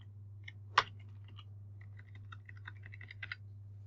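Typing on a computer keyboard, one sharp louder key press followed by a light scattered run of quick clicks, close and quiet over a steady low hum.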